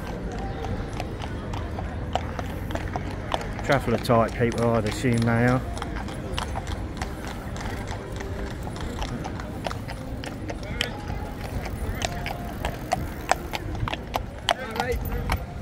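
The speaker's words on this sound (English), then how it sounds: "There's loads of guys on horses." Horses' hooves clip-clop along the South Pier promenade near the Pleasure Beach, a busy rhythm of steady, fairly close hoof strikes beneath ongoing outdoor chatter and voices.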